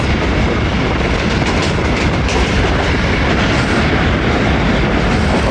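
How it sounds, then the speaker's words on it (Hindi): The Hazara Express passenger train rolls into Gujar Khan railway station, a loud, steady rumble with rhythmic clickety-clack of wheels over rail joints, close by and continuous throughout. "गुजर खान रेलवे स्टेशन पे अप्रोच बना रही है 11 हज़ारा एक्सप्रेस"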